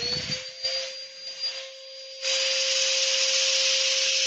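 An electric sander hooked to a dust extraction drum by flexible hose starts up, shifting from a lighter broadband whir into a loud, steady high-pitched whine with a constant tone, running alone without talk.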